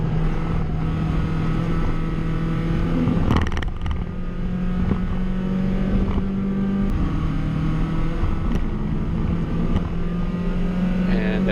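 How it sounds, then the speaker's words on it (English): A loud, steady engine drone from a race car revved all the way out in third gear during a sprint race, a constant high-revving hum with brief shifts. "Rev it all the way out in the 3rd gear."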